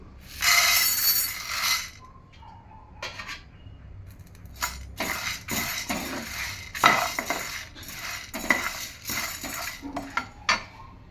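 Dry chana dal is poured into a pan and stirred while making idli podi, heard as bursts of rattling grains and metallic scraping of a spoon against the pan, close and fairly loud, with short pauses between.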